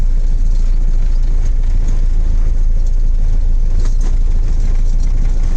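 A truck carrying harvested wheat drives to a grain warehouse, heard from inside as a loud, constant engine drone and road rumble with no break.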